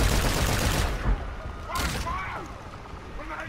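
Bursts of gunfire from the video game Call of Duty Infinite Warfare, a rapid volley of shots followed by fainter whizzing effects, under a voice talking.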